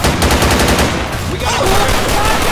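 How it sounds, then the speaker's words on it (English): Dense, continuous gunfire from the video game Left 4 Dead 2, a rapid, loud automatic burst that rattles on without a break for a couple of seconds, with no voices over it. "You're shooting me again."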